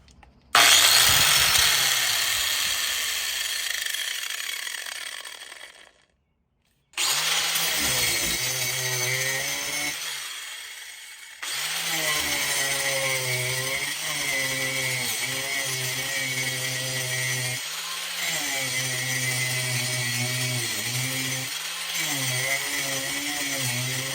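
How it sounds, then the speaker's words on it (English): An angle grinder cutting through a metal rental door lock, a loud, close, high whining grind that spins up, cuts out briefly, then resumes in long sustained passes with slight pitch dips as the disc bites. "After a minute of grinding, we're halfway through cutting the lock."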